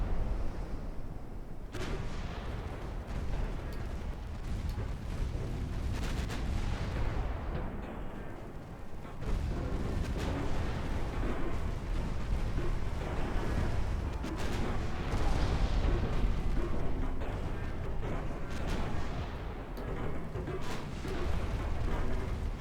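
Naval guns firing shells in a dreadnought-era warship game, heard as a dense, continuous rumble of booming fire and impacts that runs loud and unbroken throughout.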